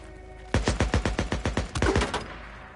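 Rapid burst of about ten close, loud gunshots in the Days Gone video game, evenly spaced and sharp, with no talking over them.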